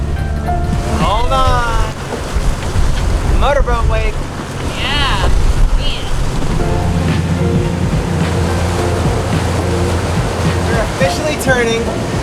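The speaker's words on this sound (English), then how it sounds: "Hold on. Motorboat wake." A motorboat's wake slaps against a sailboat heading out into the ocean off Fort Lauderdale, with loud rushing water and wind buffeting the microphone while people shout and talk over it.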